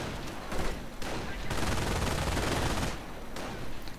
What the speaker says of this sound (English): Riflemen in this building getting attacked by the Grenadiers with an LMG.